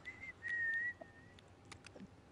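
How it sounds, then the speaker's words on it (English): A person whistles a short, steady high note that sustains for about half a second, then trails off, with faint background clicks and shuffling noise. "Who's whistling?"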